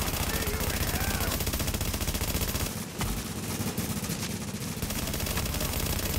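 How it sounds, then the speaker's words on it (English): Sustained automatic weapon fire in the video game The Division, loud rapid bursts that barely pause, briefly thinning around the middle before the shooting resumes. "I'm having to shoot this guy so many times."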